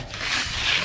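A brush or trowel rubs across fresh concrete on a newly poured sidewalk, working cream into surface holes, producing a close, steady, gritty scraping hiss that swells slightly partway through.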